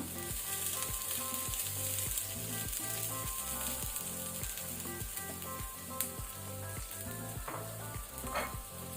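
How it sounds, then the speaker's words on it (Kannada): Fried sardine fish eggs are added to a hot pan and stirred, a continuous close sizzle broken by regular scraping and stirring beats, with a few sharper clicks toward the end. "ಈಗ ನಾವು ಫ್ರೈ ಮಾಡಿಟ್ಕೊಂಡಂತಹ ಎಗ್ಸ್ ಅನ್ನು ಸೇರಿಸಿಕೊಳ್ಳುವ"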